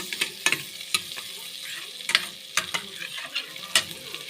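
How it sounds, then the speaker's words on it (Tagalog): Garlic and butter sizzle in a pan, with sharp scraping stirs breaking through a soft, steady frying hiss at irregular moments. "nilagay ko na yung butter at saka bawang na may gisa"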